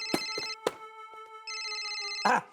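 A mobile phone rings with an electronic ringtone: short melodic tonal bursts, then a sustained chiming phrase, heard close and fairly quiet in an indoor domestic scene.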